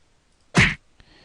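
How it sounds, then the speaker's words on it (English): A single punch sound effect, a sharp, loud, close whack lasting about a quarter second that stands alone against silence, followed by a faint short tail. "And I want a punch for sure"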